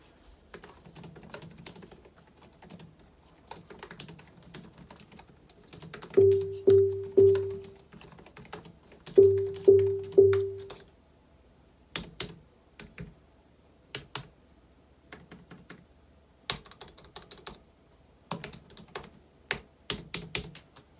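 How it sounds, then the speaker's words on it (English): Typing on a Logitech MX Keys keyboard: soft, quiet key taps in irregular bursts, close up, with a couple of brief beeping tones partway through. "For sound, it's actually one of the quietest keyboards I've heard."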